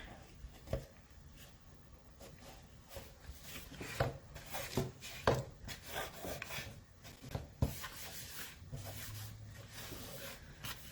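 Conditioning oil being rubbed by hand into a Baltic birch bead board, with soft, close scuffing and rubbing strokes on wood and occasional louder knocks, all quiet and without speech.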